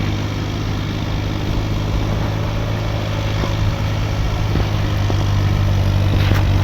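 A tractor engine's steady, low rumble runs throughout, loud and close, with a constant droning hum and no voices.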